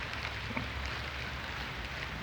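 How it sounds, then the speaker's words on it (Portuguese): Steady rain falls outside a church during a sermon, a dense even hiss with soft patter of drops on a surface, constant and moderately close throughout. "tá chovendo aqui"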